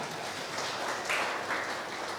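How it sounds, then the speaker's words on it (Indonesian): A church congregation at a Sunday worship service applauds, a soft, diffuse patter of many hands sustained throughout, distant and fairly quiet. "Tepuk tangan bagi saudara."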